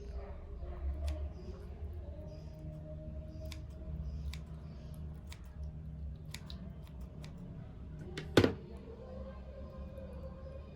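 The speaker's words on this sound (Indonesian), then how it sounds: "Kita gunakan gunting untuk memisahkan dia dari tubuhnya." Scissors snip through a scad fish during a classroom ichthyology dissection, giving a single short, sharp cut near the end over a low, steady room hum, with faint clicks scattered throughout.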